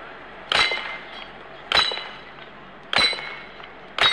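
Four sharp metallic clangs of rounds striking steel Texas Star plates at an Indonesian police SWAT team challenge, spaced roughly every second, ringing briefly against steady outdoor background noise.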